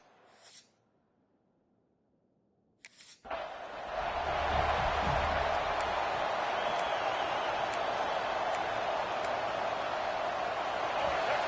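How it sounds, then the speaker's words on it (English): Stadium crowd roaring in the NCAA 26 college football game at a Georgia Bulldogs versus Florida State Seminoles matchup, swelling after a short quiet lull into a loud, sustained wash of cheering that holds steady to the end. "This crowd trying to show them what it's going to be like all day in this house"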